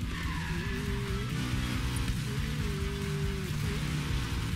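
A BMW M5 races through the video game Need for Speed Payback, its engine droning loudly and steadily while the tires skid and squeal in long sliding streaks, with no talk over it.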